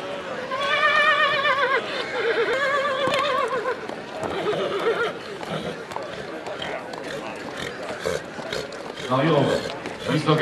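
Horses neigh and whinny repeatedly at a patronal saint's festival in Ivrea, heard with hoof clip-clops amid a busy crowd and continuous talk over a public address.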